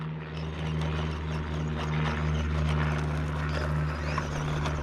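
An airplane flying nearby over an off-road driving spot gives a steady, fairly loud engine drone that holds without a break for the whole stretch.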